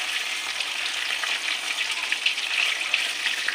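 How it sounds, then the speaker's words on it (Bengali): White cumin seeds sizzle in hot oil, tempering a spicy tangra fish curry with yogurt. The crackle is steady and close, with small sharp pops scattered through it and no voices. "সাদা জিরে ফোড়ন দিয়ে দিলাম।"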